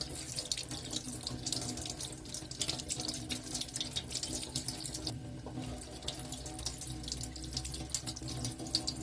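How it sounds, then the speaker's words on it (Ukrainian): Tap water runs steadily into a sink while saffron milk cap mushrooms are rinsed under it, a continuous close splashing hiss that changes slightly as the mushrooms are handled. "Треба промити кожний гриб під проточною водою"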